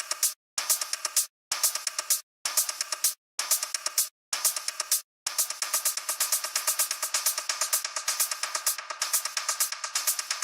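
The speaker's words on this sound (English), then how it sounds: "I can fill it in with a delay." Techno beat in Ableton Live with a delay effect, bright chopped hits separated by short gaps that give way to a continuous run of rapid echoing repeats, fairly quiet with no talking.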